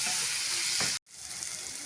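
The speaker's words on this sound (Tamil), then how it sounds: "மிளகாய் தூளோட பச்சை வாசனை போகிற வரைக்கும் வதக்கி விட்டுக்கோங்க" Masala with chili powder sautéing in a pan for bottle gourd masala, a steady sizzle with a stir at one point, broken by a brief silent gap before the frying noise resumes.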